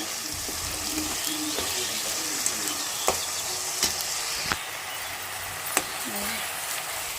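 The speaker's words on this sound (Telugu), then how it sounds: "మన ఉల్లిపాయ పేస్ట్ అయితే ఎగుతా ఉంది" Onion paste frying in a pan makes a constant close sizzle with a few sharp pops and spatters, while a voice talks softly underneath.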